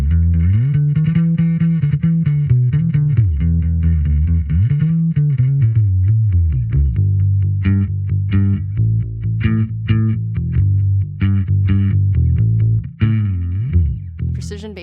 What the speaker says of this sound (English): Fender bass is synonymous with electric bass.